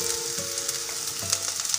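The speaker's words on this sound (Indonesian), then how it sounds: "Kita goreng sampai tumis sampai benar-benar sedikit golden brown atau sedikit kecoklatan, biar aromanya benar-benar keluar" Kaffir lime leaves frying in hot oil until golden brown, a close, steady crackling sizzle with small pops and stirring, no voices.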